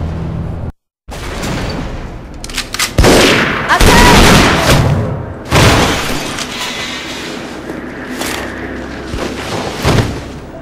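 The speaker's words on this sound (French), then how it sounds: "Il suffit simplement que tu attendes que les tirs se calment" Gunfire erupts at a military base in Tomb Raider: a loud, continuous barrage of shots, booms and breaking glass that fills the scene, with a brief silent gap near the start and faint voices mixed in.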